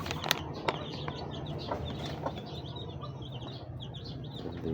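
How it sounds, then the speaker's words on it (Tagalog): Eight newly hatched chicks in their pen: faint, scattered high peeps and chirps over a low background hum, fairly close but quiet. "walong mga sisiyo yan guys. Mga bagong sisiyo yan."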